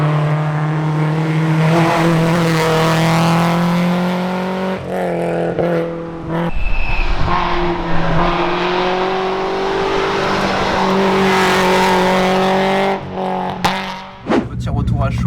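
Race car engine droning steadily through a hill climb course with fresh tyres at corrected pressure, a loud sustained harmonic drone with shifts as it revs and changes gear, continuous for the whole run.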